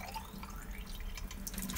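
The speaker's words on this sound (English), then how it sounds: "You unscrew there, fill up with water, and screw it back on again." Water trickles and drips softly from a tap as the handle of a Mudder water brush is filled, a faint continuous splashing with small drips and no talking.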